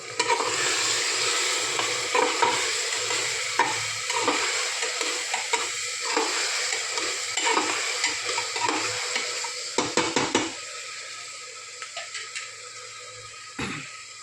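Masala khichdi fries in a pot with a continuous sizzle while a spoon stirs and scrapes in repeated strokes, then a few sharp clanks near the end.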